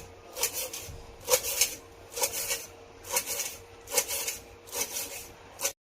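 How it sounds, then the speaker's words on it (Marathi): A knife chops fresh coriander on a board in a village kitchen. It makes six or seven quick bursts of crisp, scraping cuts at an even pace, close and fairly quiet, with short pauses between bursts. "आता आपण कोथिंबीर पण बारीक चिरून घेऊया."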